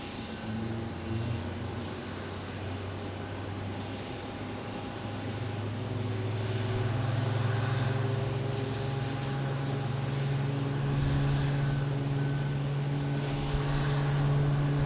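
Airliners run up and depart from the single departure runway at Phoenix Sky Harbor airport, with a steady, fairly distant engine roar that swells louder partway through and then holds. No one speaks.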